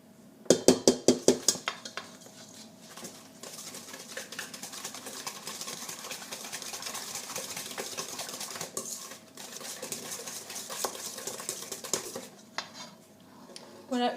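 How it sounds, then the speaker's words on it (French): Three eggs being whisked with sugar in a bowl, starting with a quick run of sharp metallic clinks against the bowl, then settling into a steady, continuous scraping and rattling whisk that carries on close by, with a faint voice at times. "vous allez les fouetter avec le sucre jusqu'à l'obtention d'un mélange crémeux"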